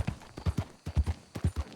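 Horse hooves clip-clopping at a steady walking rhythm in the Red Dead Redemption 2 video game, a series of close, distinct paired hoof strikes with brief pauses between groups.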